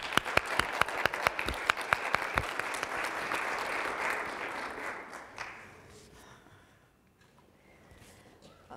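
An audience at the Stroum Lectures breaks into sustained applause welcoming lecturer Chava Weissler, the clapping loud and dense at first, then thinning out and fading to quiet room tone.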